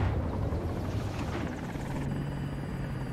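Attack helicopter in Battlefield 2042, a loud continuous rotor thrum and engine drone filling the whole moment, close and steady with no talk over it.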